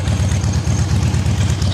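A custom Harley-Davidson Softail chopper by Independent Choppers idles nearby, its low engine throbbing in a steady, even pulse.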